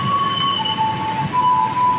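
A KRL commuter train sits at platform 1 or 2 of Cikarang station, the end of the line from Jakarta Kota, giving off a steady electric hum and a constant whine, with a low station rumble and no talking.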